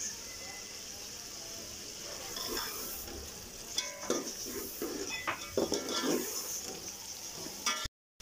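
Mixed pickle being stirred into yakhni pulao in a cooking pot, a spoon scraping and clinking against the metal under a steady sizzle, irregular close stirring strokes that grow busier midway before an abrupt cut.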